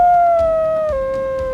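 Wolves howl in a single long, steady sustained tone that dips slightly in pitch partway through, with faint overtones, fairly close and clear against a quiet background.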